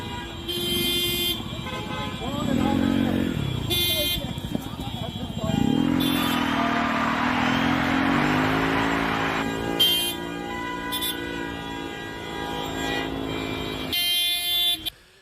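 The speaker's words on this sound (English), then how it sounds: "angry motorists who were beeping the protesters" Car horns honk at protesters from angry motorists, with several long, loud blasts overlapping in the middle and more bursts later, mixed with steady street noise and voices talking throughout.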